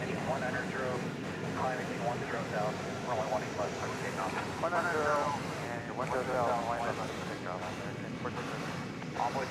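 A Boeing 777-300ER airliner, bound for London Heathrow, roars at a moderate distance at DFW Airport at night. Its broad, steady rumble runs under a person talking.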